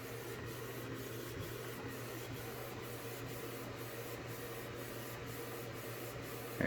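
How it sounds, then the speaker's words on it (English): A Canon inkjet printer fitted with a remanufactured ink cartridge prints a page, giving a steady mechanical whir with evenly pulsing passes of the print head. At the very end a short louder clunk is heard. "There it comes. Yeah, this printer is fast though."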